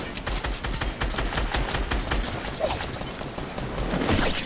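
Rapid bursts of gunfire in a Fortnite match, sharp repeated shots fired through walls in quick succession, fairly loud and close with no talk over them.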